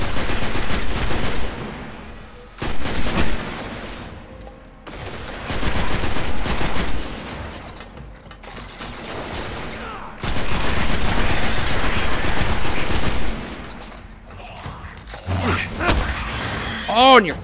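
Rapid bursts of gunfire from the video game Destiny on PS4, played in a dark area, come in loud repeated volleys with short pauses between them, while players talk over the shooting.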